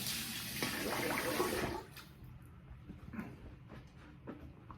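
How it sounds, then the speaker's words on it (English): Running tap water rinses a safety razor over a sink, a steady broadband rush for almost two seconds, then stopping and leaving quieter drips and small handling clatter. "let me rinse that"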